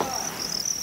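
Steady high-pitched chirping of farmed crickets fills the short stretch, a continuous shrill trill with a faint background hum and no voices.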